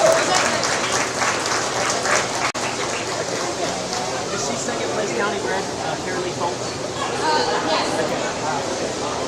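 Audience applause at a county sheep showmanship and market lamb show, a sustained broad crowd clapping that continues evenly throughout, with murmuring chatter and voices mixed underneath.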